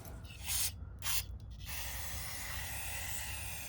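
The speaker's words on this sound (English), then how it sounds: "Use a brake parts cleaner." Spray-can bursts of brake parts cleaner hit a car's brake hub during a 2009 Toyota Camry rotor and pad job, two short hissing blasts followed by a steady lingering spray hiss, close and fairly loud, with no talking.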